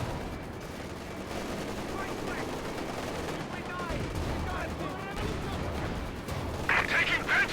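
Machine gun fire and battle noise play in the video game Company of Heroes 2, with dense, continuous rattling bursts. Distant explosions blend into a busy war soundscape.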